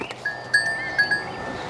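Sirohi goats on an Indian goat farm bleat in a few short, high, nasal calls at close range over a quiet farmyard background.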